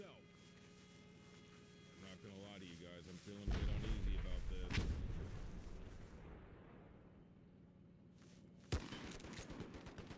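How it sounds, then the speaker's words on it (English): Deep artillery blasts in the video game Mud and Blood: a heavy booming burst around the middle, then a second sharp impact near the end, over a rumbling battlefield din and game sounds. "There's artillery right there."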